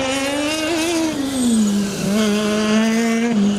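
Formula Student race car at an endurance event, its high-pitched engine note sweeping past with a slight drop in pitch and a brief throttle lift midway, loud and alone.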